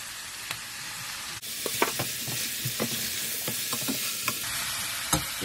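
Carrot, turmeric and garam masala being stirred into vegetarian fried rice in a hot pan, a steady close sizzle broken by scraping spoon strokes and a few sharp clinks.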